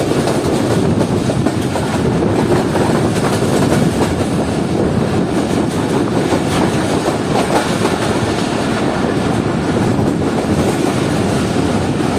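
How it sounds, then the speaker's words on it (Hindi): A passenger train rumbles through Lahore Cantt railway station in Pakistan in a loud, continuous roar with faint clickety-clack and wind buffeting, heard from on board without pause. "ट्रेन इस वक्त विजिट कर रही है लाहौर कैंट रेलवे स्टेशन को"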